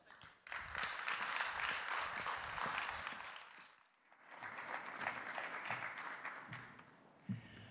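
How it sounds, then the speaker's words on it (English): Conference audience applauds as a speaker comes up on stage at a bio-based industry event, a sustained burst of clapping that dips briefly midway, then swells again before fading into a single louder clap. "always give the speakers a big applause before they come up on stage."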